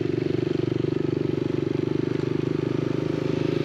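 Yamaha TTR125 dirt bike engine idling and revving steadily with a rapid putter during clutch practice, close and continuous with no talk.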